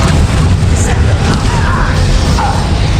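Bombarda blasting spell from Hogwarts Legacy, loud, booming blasts and crashing impacts in a dense, chaotic fight mix with shouted voices.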